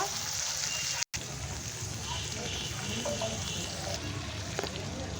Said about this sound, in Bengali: কলিজাটা দিয়ে দেব কলিজাটা দশ মিনিট ভেজে নেবো